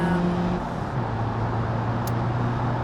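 In the BeamNG driving game, a car's engine drones steadily at speed with a shifting low hum, followed by a short sharp impact as it slams into a rock, then the engine tone continues.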